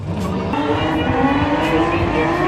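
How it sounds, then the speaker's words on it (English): A supercharged car revs hard at a crowded car meet, its loud engine note climbing steadily in pitch as it races close by, with a hint of tire squeal and no voices over it. "It's for sure supercharged, I can hear it."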